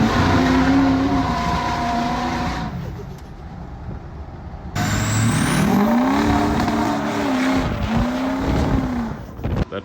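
A Ford 6.0 Powerstroke diesel truck is driven hard, its engine revving up and down through several rising and falling pulls, loud and close, with a brief dip in intensity midway.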